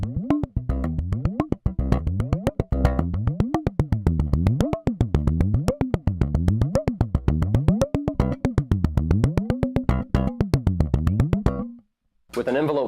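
Rapid rhythmic plucked hits on a SlapStick N-100 electric percussion instrument, with repeated swooping pitch slides rising and falling in a steady pattern. The playing runs for about twelve seconds, breaks briefly into silence, then resumes.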